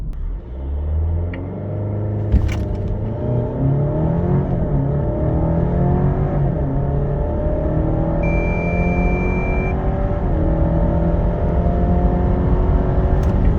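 A 2023 Alfa Romeo Giulia Tributo Italiano 2.0 turbo Q4 with 280 hp launching from the brake, engine rumbling loudly and climbing through repeated rising gear pulls, with a brief high whine partway through.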